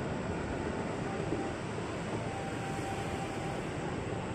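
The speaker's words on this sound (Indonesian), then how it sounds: "JRS 20547 rangkaiannya 12 kereta" KRL commuter train JRS 20547, a twelve-car electric set, rolling through Cikini station late at night: a steady, dense rumble and hiss that holds evenly throughout, with no voices.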